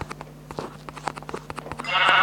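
Sheep bleat in the video game Minecraft, a short wavering bleat that stands out clearly. A sharp hiss or burst follows it at the end.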